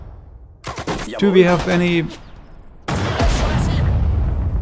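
Gunfire rattles through a battle in Sudden Strike 4, a World War II strategy game at Sedan, as a dense, loud burst of shots roaring steadily after a man's short spoken question.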